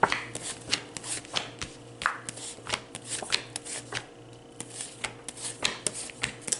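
Tarot cards are shuffled close up in a quick run of crisp riffling slaps and flutters, with a faint steady hum beneath.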